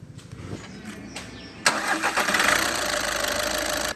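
A car engine is started: a short cranking whir gives way to a sudden catch and a steady, loud idle that runs close and continuous to the end.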